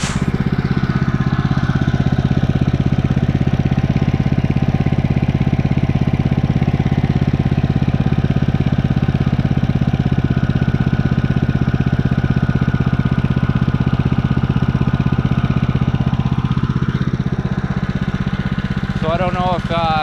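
The engine on a Woodland Mills sawmill idles with a loud, steady, close-up drone that holds unbroken for the whole stretch while its idle is being adjusted down.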